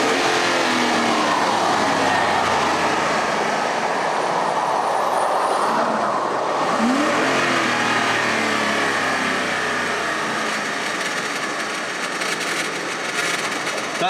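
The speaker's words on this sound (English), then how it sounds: "That's broken gears right there." Broken transmission gears grind inside a car, a continuous loud mechanical rumble and rasp layered with road noise that holds steady throughout with no talking.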